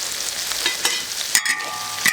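Dried tofu stir-fried with beef, red pepper and garlic sprouts sizzles in a hot wok, a close, steady crackle broken by a few sharper scraping stirs of the spatula.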